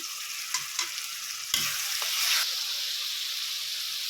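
Mushroom curry frying and being stirred in a pan with onion, turmeric and chili powder, a steady close sizzle broken by a few scraping stirs.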